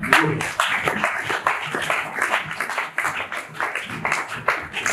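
Audience applause at a Service National ceremony marking a donation of 500 benches to IFASIC, honouring President Félix Tshisekedi: dense, steady clapping from a crowd, loud and close, continuing throughout without a break.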